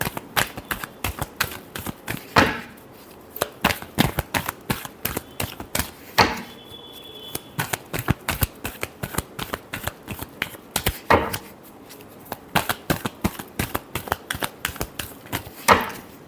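Tarot cards being shuffled by hand make rapid, dense riffling and clicking bursts, over and over in quick irregular clusters, close and fairly crisp, with no talking.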